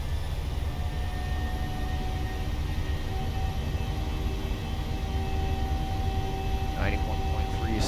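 A Boeing 737 in the PMDG flight simulator spools up to takeoff thrust as a steady, loud broadband engine roar that holds throughout, with faint tonal whines and a few brief chirps near the end.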